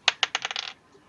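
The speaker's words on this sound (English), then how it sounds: "These are not good dice noises." Several small dice clatter onto a table during a tabletop D&D game, a quick burst of sharp clicking bounces that settles within under a second, close and fairly loud.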